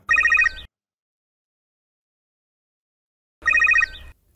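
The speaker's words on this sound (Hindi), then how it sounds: "ऐसे में एक फोन आया।" A telephone rings in two short bursts of bright warbling trills separated by about three seconds of silence, loud and close with no voices.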